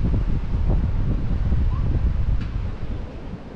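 Wind gusts buffet the microphone outdoors during urban bass fishing in Sydney, a loud low rumble that swells and eases steadily with no talking.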